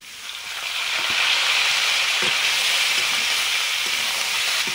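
Vegetables frying in hot mustard oil in a pan, a steady broad sizzle that swells in over the first second and holds loud and close throughout, with a few faint clicks beneath.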